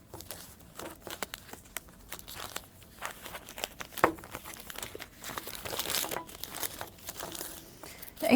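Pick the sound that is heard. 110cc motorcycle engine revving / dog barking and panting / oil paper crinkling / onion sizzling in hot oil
oil paper crinkling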